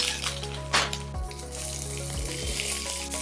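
Onion and curry leaves sizzle in hot oil in a pan, a steady close hiss of frying that runs the whole time beneath light background music.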